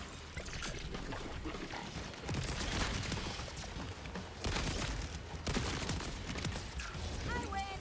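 Rapid Jakobs shotgun and rifle fire in the Borderlands 4 video game, dense bursts of shots with mechanical clatter across the whole stretch, loud and continuous with brief gaps, under game sound effects.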